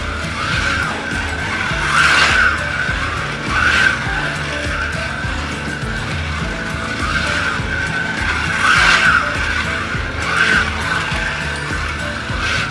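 An AMC Javelin Trans-Am slot car laps a track with a steady motor whine, rising and swelling at regular intervals as it passes close by.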